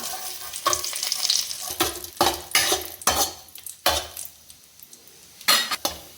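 Broken cashew nuts for rava laddu roast in a pan, stirred in repeated scraping bursts with light sizzling and the occasional clink of a spoon against metal, close and without speech.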